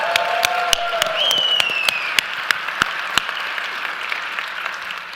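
Live studio audience applauding, a dense steady wash of clapping close by with sharp individual claps and a few whistles and cheers rising above it.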